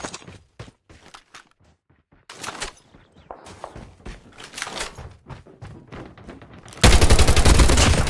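Gunfire in a video game, with scattered shots and thuds building into dense bursts, then a loud continuous rattle of rapid fire over the final second.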